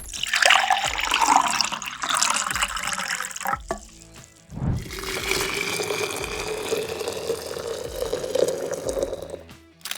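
Water poured into a glass, first cold then hot, two separate pours with a brief gap between them, each a steady close splashing stream.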